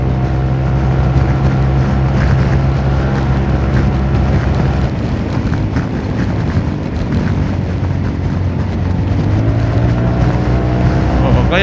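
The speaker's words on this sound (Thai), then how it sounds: "ก็วอร์มเครื่องมาได้สักพักนึงแล้วก็เดี๋ยวลองเร่งเครื่องดูบ้างนะ" A Honda Forza 350 scooter engine, warmed up, revs loudly and close by. The steady drone swells and shifts pitch with throttle changes, and a voice is faintly audible beneath it.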